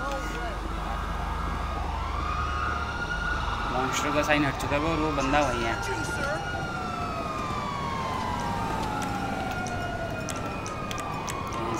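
Police sirens wail in GTA V, several overlapping rising and falling tones sounding continuously over engine and traffic noise, while someone talks throughout.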